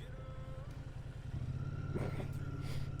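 A Royal Enfield motorcycle engine idles with a steady low throb, then rises slightly in level, faint and at some distance, with brief clattering sounds on top.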